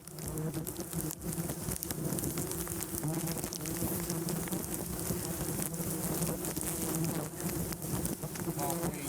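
Southern yellow jacket wasps swarming around a huge nest attached to the underside of a house in Louisiana: a dense, continuous loud buzz of many insects, close and unbroken throughout.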